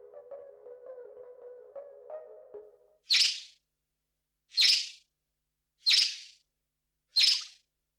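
A short bird chirp sample slowed down so each call splits into two very brief notes, heard four times at even spacing after a low, wavering tonal passage, clear and isolated against silence.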